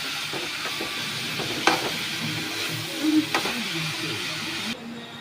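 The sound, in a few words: capsicum and cabbage being stir-fried in a pan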